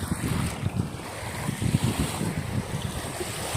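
Waves washing onto a beach on a windy Saturday morning, with tuna-fishing boats nearby, at Ladol Beach in Alabel, Sarangani Province; a steady roar of surf and wind noise on the microphone, with low rumbling swells throughout.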